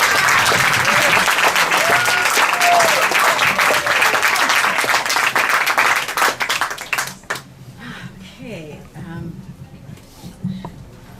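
Audience applause at a bookstore reading welcoming the author Yvonne at McNally Jackson Books, dense and loud for about seven seconds, then breaking off into scattered claps and quiet room noise.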